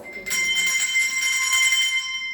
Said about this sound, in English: we've got someone down here playing with some bells